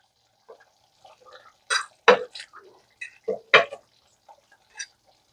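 Egg balls dropped one after another into simmering egg curry in a pot, a handful of distinct wet plops and splashes with quiet bubbling between them, close and fairly loud, no voices.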